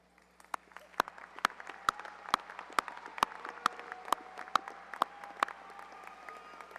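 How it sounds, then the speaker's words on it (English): Graduation audience at a 2017 high school ceremony applauding their families, heard as steady, fairly faint clapping with sharp, evenly spaced louder claps standing out through the whole stretch. "So graduates, I ask you to please rise and give your families a round of applause that they deserve."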